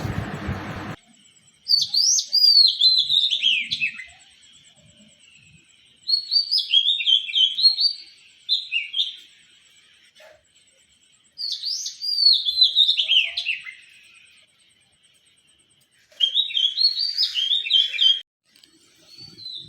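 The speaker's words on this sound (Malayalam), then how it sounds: "കുരുവികളുടെ സൗണ്ടൊക്കെ ഒന്ന് കേട്ട് നോക്കാം" Sparrows chirping in the early morning, four clear bursts of bright rapid twittering separated by quiet gaps, close and loud.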